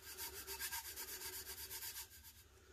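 Glitter is rubbed and burnished onto a tumbler in quick back-and-forth strokes, a soft close scuffing rhythm at very low volume.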